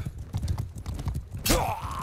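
Horse hooves gallop in the Mount and Blade video game, a fast rhythmic run of thuds near and fairly loud, with a brief whinny-like swell at the end amid battle noise.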